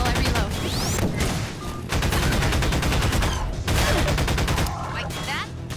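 Gunfire in a Half-Life map against Combine enemies: dense, loud bursts of rapid automatic shots in long sustained volleys with brief gaps, close and harsh, with a voice speaking between them.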